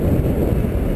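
Gusty wind outdoors beside a truck hauling a stainless steel tank load buffets the microphone as a steady, loud low rumble for about a second, with no talking.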